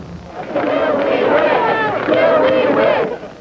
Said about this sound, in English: Big crowd demonstrating against an armed campus police force